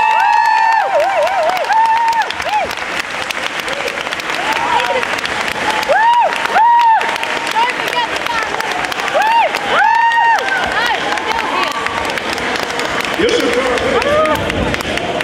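Loud, continuous applause and cheering from a comic con crowd in London welcoming panel guests, dense clapping with whoops and ringing tones running throughout.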